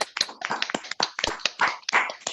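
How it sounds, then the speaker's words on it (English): Scattered hand claps ring out unevenly, a few people clapping close by rather than a full crowd, with no talking. "Can you give yourselves a massive round of applause, please?"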